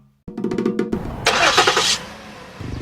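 A car engine cranks with a rapid stuttering rhythm, catches, then revs loudly and close before settling toward idle, heard alone without voices.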